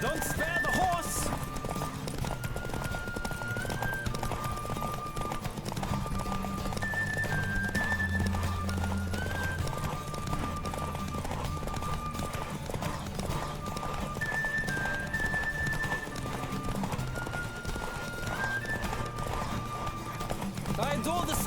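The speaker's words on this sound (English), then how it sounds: "Don't spare the horse." A horse gallops in The Witcher 3 game, rapid rhythmic hoofbeats with occasional whinnies over continuous game music and a speaking voice.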